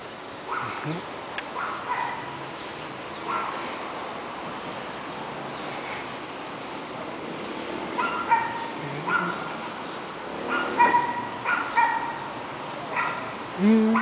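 Dogs yip and bark intermittently at a moderate distance in an open park, Alameda Nápoles, with faint murmuring voices and steady background noise throughout.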